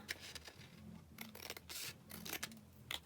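Scissors snip and trim paper pockets in a craft workshop, several quick close cuts in irregular bursts over a quiet background.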